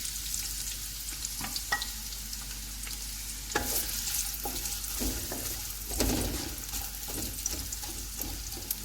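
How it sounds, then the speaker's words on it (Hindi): Onions for an Asian pulao sizzle in hot oil over low heat, a continuous bright frying hiss punctuated by the clatter of a spoon stirring the pan. "थोड़ा सा ऑयल गर्म होगा तो इसमें प्याज डाल देंगे।"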